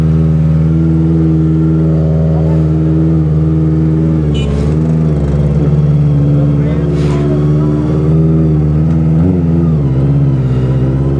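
A Kawasaki ZX25R motorcycle with a swapped exhaust runs loud and close, its high-pitched engine whine rising and falling through several revs as it rides, with occasional talking over it.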